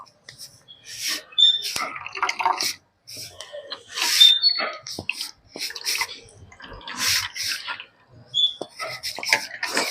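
Sliced potatoes are washed by hand in water, with close, intermittent bursts of splashing and swishing separated by short pauses.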